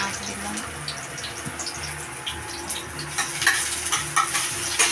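Mutton sizzles and fries in a wok with cumin and onion, a steady crackling hiss with occasional stirring scrapes, close and moderately loud throughout.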